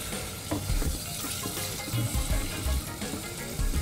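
Boneless chicken pieces fry in a hot pan for chicken and prawn fried rice, giving a steady close sizzle with soft, irregular thumps and scrapes from stirring. No one speaks.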